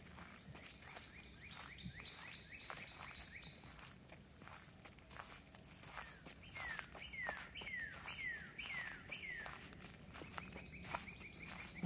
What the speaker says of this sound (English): I hear that bird all the time, like all my life. The one doing the crazy whistling.